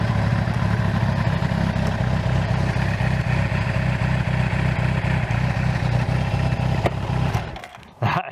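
A Kawasaki Ninja GPZ900R motorcycle engine runs steadily with a loud, close, throbbing idle and mechanical clatter, cutting off abruptly near the end.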